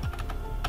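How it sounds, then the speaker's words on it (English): Quick keystrokes on a computer keyboard, about five close taps in well under a second, with no voices. "So let me type here"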